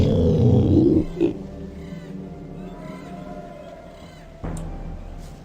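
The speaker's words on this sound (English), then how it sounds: "like a raptor, like a giant lizard or velociraptor type of sound." A roar from a raptor-like giant lizard creature in the Gothic video game: a loud guttural growl opening the clip, followed by a lower rumbling tail and a second short snarl near the end, with no talking.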